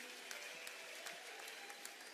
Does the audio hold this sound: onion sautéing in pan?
no